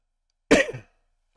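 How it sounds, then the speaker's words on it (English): A single short, sharp cough with a throat-clearing rasp, close and alone against silence. "there's gonna be some coughs this episode"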